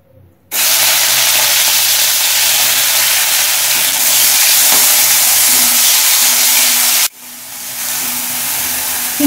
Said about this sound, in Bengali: ওল ভাজার পর কড়াই যতটুকু তেল রয়েছে সেই তেলে চিংড়িটা ভেজে